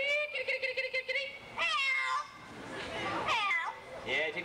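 A parrot at a bird show imitates a cat, giving a rapid pulsing chirp and then several drawn-out meow-like calls, clear and close, with crowd noise in the background.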